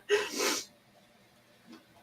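A single sharp sneeze bursts out close and loud at the start, followed by a faint breath a moment later.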